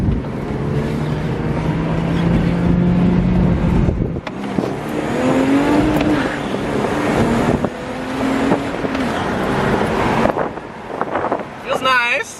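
A BMW 325i engine revs and pulls under acceleration inside the cabin, a steady droning rise broken by a shift, with wind noise and people talking over it.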